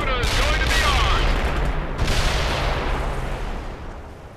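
Dense battlefield gunfire from the World in Conflict strategy game, a rapid fusillade of loud overlapping shots and booming artillery that swells at the start and again midway before thinning out.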